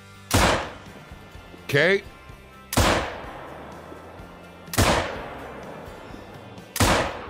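Five single shots from a 30-30 rifle fired at a target on a range, each a sharp loud crack with a short decaying tail, spaced about a second or two apart; a voice speaks briefly between shots.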